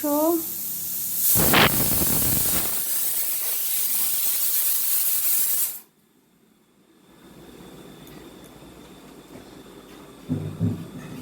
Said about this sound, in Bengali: সিটি পড়ছে খুটুদের মাংস